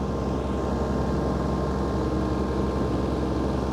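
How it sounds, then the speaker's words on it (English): Iseki TH4335 compact tractor with a Teagle Park 160 flail mower engaged and running at working speed, a steady loud droning engine and rotor roar that holds constant throughout, with no talk. "So now it's green, the mower is working at the correct speed and the engine's got the power."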